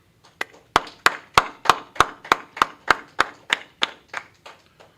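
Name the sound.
audience clapping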